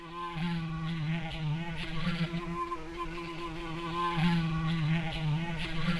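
A steady electronic-sounding video game bee buzz drones continuously, its pitch wavering slightly, like a bee hovering nearby.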